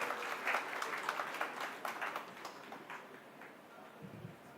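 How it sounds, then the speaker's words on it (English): Audience applause at a foundation day oration in a hall, sustained clapping from a crowd that gradually thins and fades toward the end. "A big round of applause once again, please."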